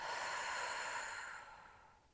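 A single long inhale through the nose during a Pilates deep-abdominal exercise, a soft airy hiss that is steady and then gradually fades, heard close and alone with no talk.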